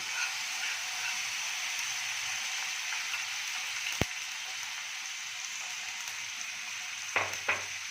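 Spice paste hitting a hot pan for a veg moong dal omelette curry, giving a steady, close sizzle with hiss throughout and a couple of brief clicks of utensil contact, with no talking.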